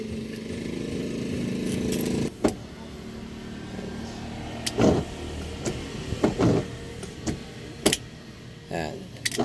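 Motor whir and soft clunks of an Isuzu Sportivo's intermittent windshield wiper running after being switched on, with a steady engine or fan hum beneath and occasional clicks, heard close by inside the vehicle.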